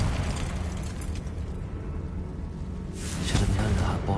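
A fiery blast from the Confringo spell in the video game Hogwarts Legacy rises as a broad, roaring whoosh near the end, over a dense, continuous rumble of game noise.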